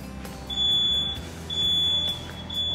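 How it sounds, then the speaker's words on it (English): A smoke alarm sounds in long, piercing high-pitched beeps, each lasting about half a second, repeating three times over a low background hum. "use it to activate the alarm and verify that it's working"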